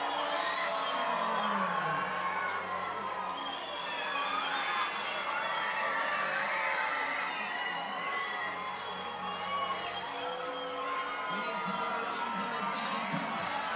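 Baseball crowd at a minor-league game, a steady wash of cheering, whoops and shouts that stays loud and dense throughout, with children's voices in the mix.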